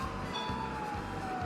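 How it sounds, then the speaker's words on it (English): A police siren in a video game wails faintly under low rumbling engine noise, its steady tone holding briefly. "Oh, that sounds like a police siren."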